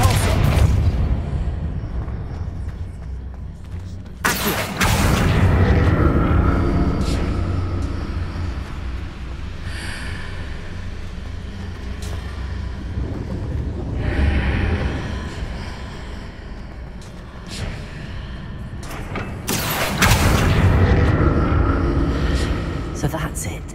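Confringo and Depulso spells burst with booming, rumbling explosions in the Hogwarts Legacy video game, two loud blasts around the start and near the end, with spoken commentary running throughout.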